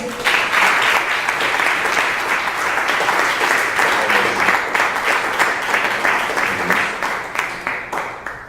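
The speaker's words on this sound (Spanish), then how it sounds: "Dale un fuerte aplauso a Dios" A church congregation applauds loudly and steadily for several seconds, a dense crowd clapping close and full that tapers slightly toward the end.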